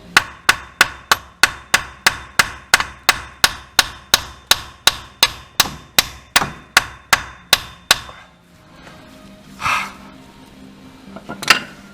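Hammer blows strike a seized suspension ball joint bolt on a Renault Scenic, about twenty sharp metallic hits in a steady fast rhythm, close and loud, then stopping, followed by a few faint clanks and shuffles.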